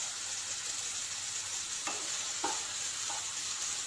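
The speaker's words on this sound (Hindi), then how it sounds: "अब मैं लिड हटा के इसे अच्छे से मिक्स कर लूँगी" Veg Hakka noodles tossed in a hot pan, a constant hissing sizzle broken by a few short scraping stirs, close and moderately loud.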